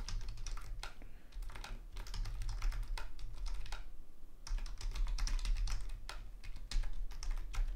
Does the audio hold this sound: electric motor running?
no